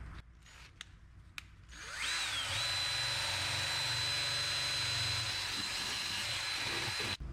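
A power drill spins a nylon brush against an aluminum intake manifold's sealing surface, a steady, loud whir that ramps up after about two seconds of quiet clicks and holds unbroken to the end.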